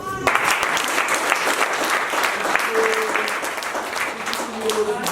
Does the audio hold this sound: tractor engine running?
no